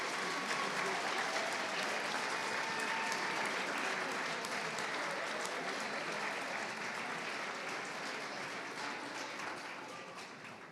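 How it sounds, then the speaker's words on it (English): A large audience applauding at a 2023 college commencement as graduates walk, a continuous wash of clapping heard from a distance and fairly faint, tapering slightly toward the end. "Come on, let's give them a round of applause."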